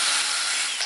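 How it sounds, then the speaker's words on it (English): A drill bit spins up and bores into a plastic Fresnel lens, a brief, close, steady hiss of grinding with no talk. "And you get the drill bit started."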